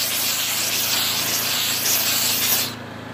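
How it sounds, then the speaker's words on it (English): A steam cleaner hisses steadily onto car seats during mobile auto detailing, a loud close spray that runs continuously and then cuts off near the end, with no voices. "Steam, baby, steam!"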